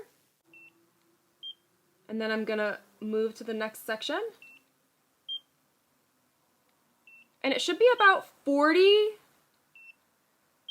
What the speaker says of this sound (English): when you do have skin contact, it beeps and then it beeps again